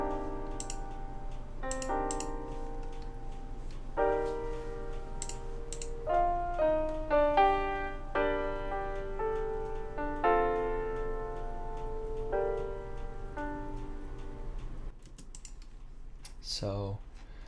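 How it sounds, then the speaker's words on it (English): Harmonic instruments in a hip-hop production, filtered with a thin telephone-like EQ, play a stepping melodic pattern of plucked notes without drums, steady and moderately loud, ending with a brief swooping sound. "another really effective trick to lower the energy of your track is to have a telephone-like EQ on your harmonic instruments"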